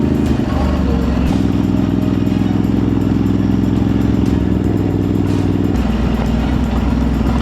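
Motorcycle engine droning loud and close on a back-ride trail up Mt. Ugo, a steady rumbling note that shifts pitch as the rider works through momentum, with faint voices underneath.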